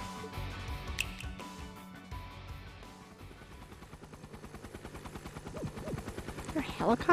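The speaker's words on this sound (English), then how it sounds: "Is there a helicopter in here?" A rapid, steady rhythmic chopping that resembles helicopter rotor blades in the video game Trails of Cold Steel IV, building louder toward the end amid game music and effects, with short bursts on top.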